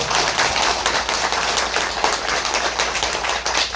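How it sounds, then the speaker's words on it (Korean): Audience applause at the close of a lecture on Haeundae redevelopment, a dense, steady wash of many hands clapping at close range for the full length, with no voices over it. "긴 시간 강해 주신 법무사님께 큰 박수 부탁드리겠습니다."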